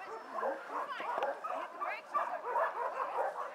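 Sled dogs in the pits at a dogsled race in Kearny, a busy mix of nearby yips, whimpers and barks overlapping continuously for a few seconds.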